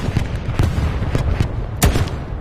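A machine gun fires during a World War II battle at Foy in the Hell Let Loose shooter. Several sharp, punchy shots come in irregular clusters, fairly close and loud, over a low battlefield rumble without speech.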